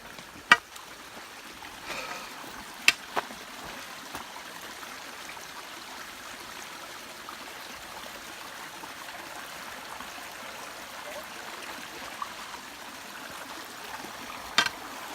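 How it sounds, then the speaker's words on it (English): A small canyon creek flows steadily nearby with a soft, continuous trickle and babble, plus a few faint clicks. "This is a little creek right here."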